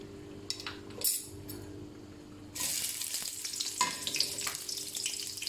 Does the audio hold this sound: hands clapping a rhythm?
no